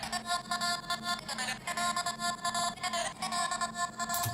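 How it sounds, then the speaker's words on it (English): An Indian vocal sample from the middle of a psytrance drop: a chanting, ornamented voice in rhythmic pulses over a driving electronic backing, fairly bright and continuous with brief swells. "In the mid of the Psytrance drop there is an Indian vocal singing"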